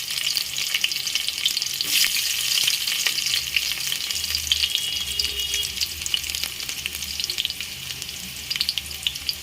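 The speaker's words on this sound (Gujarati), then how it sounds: "આપણે એમાં બધી ડુંગળી એડ કરી દઈશું।" Loud, steady sizzle of onions frying in hot oil in a pan, a continuous crackling hiss close to the mic with occasional stirring scrapes.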